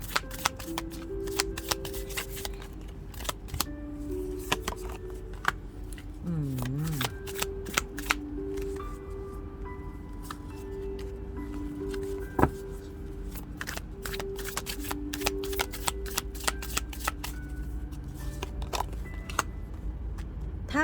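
Oracle cards are shuffled by hand in repeated crisp riffling bursts throughout, set against a steady low hum, with someone speaking over much of it.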